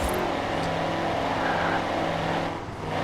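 A modded truck engine in Forza Horizon 4 revs steadily with a sustained mechanical whine from its supercharger, loud and continuous throughout without a break.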